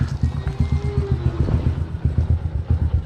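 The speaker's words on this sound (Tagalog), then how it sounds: "Pinainit na ni Rinyan yung makina niya" Motorcycle engine warming up at idle, a steady low chugging with regular pulsing beats, close and fairly loud, with faint rattling on top.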